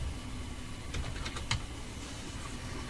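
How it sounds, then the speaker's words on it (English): A short burst of close keystrokes on a computer keyboard as a name is typed, several quick clicks clustered in the middle, no talk. "Type the name but properly this time."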